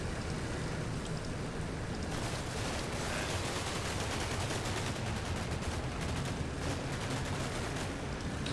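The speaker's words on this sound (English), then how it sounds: "These guys just get some coax fire from" Rapid coaxial machine gun fire from a tank in a Cold War combat video game, a steady dense rattle of bursts running throughout, fairly loud and with no talk over it.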